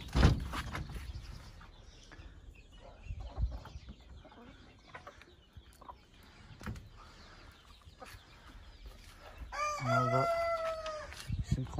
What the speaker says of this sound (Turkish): Tavuklarımız burada.